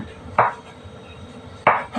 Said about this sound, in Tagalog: maghiwa tayo ng kamatis, saka sibuyas